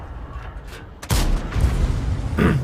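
A VK 100.01 P heavy tank fires its cannon in World of Tanks. One sharp, loud blast lands partway through and is followed by a deep rumbling tail and engine noise, with no talking.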